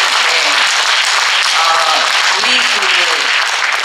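Audience applause fills a concert hall celebrating composer Choi Young-seop's 70th anniversary of composing, steady dense clapping throughout with a host's brief voice over it.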